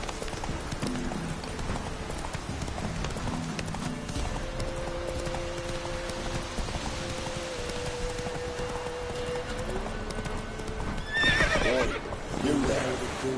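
Horse hooves clip-clopping with a neigh in The Witcher 3 video game, rhythmic hoofbeats under music and game ambience, with a brief voice and a louder burst near the end.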